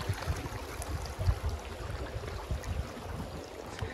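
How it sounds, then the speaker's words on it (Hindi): Water running between stones beneath a natural rock bridge at Fateh Jang, a soft continuous rushing trickle heard close up and alone. "इधर पानी आ रहा है इधर पत्थर के बीच से जा रहा है"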